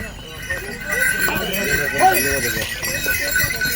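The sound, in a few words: horses walking, hooves clip-clopping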